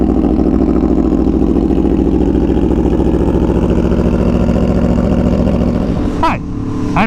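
Aprilia Tuono motorcycle engine running steadily and loud up close, a continuous throbbing drone that shifts pitch near the end.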